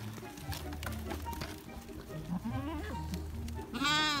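Sheep bleating on a farm, several wavering calls close by with one loud bleat at the end, heard over background voices and farm noise.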